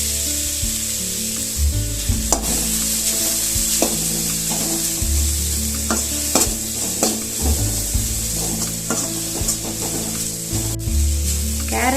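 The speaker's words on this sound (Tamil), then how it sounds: "இது கூட 1/2 கப் கேரட் துருவல், 1/2 கப் தேங்காய் துருவல் சேர்த்து நல்லா வறுத்து எடுத்துக்கலாம்" Grated carrot and grated coconut roast in ghee in a kadai, giving a loud continuous sizzle broken by frequent spatula scrapes and stirring knocks against the pan.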